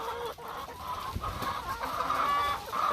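Laying hens in a chicken coop clucking while eating feed, a dense overlapping chorus of close clucks and squawks that continues steadily without pause.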